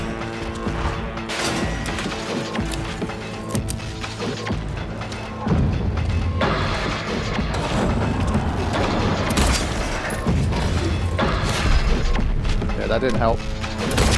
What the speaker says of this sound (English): I think I'm damaging him with the gun.